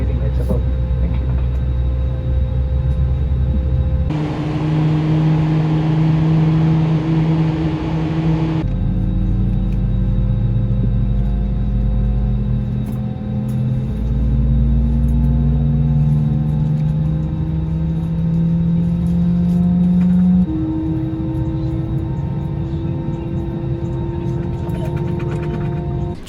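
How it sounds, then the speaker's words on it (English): An Airbus A320neo jet engine spools up during start on the ground, a loud steady whine and hum with tones gradually rising and shifting inside the cabin, while a voice speaks over it. "change the engine mode selector to ignition start, and engine 2 master goes on"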